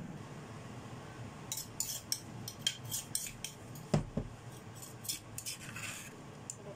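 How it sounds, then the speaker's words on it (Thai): Pestle striking a mortar while spices are pounded fine for a home-style Lao chicken curry with dill, heard as a string of sharp, irregular clinks and knocks at close range with no talking. "เดี๋ยวหนูตำละเอียดแป๊บนึงค่อยมาดูกันนะคะ"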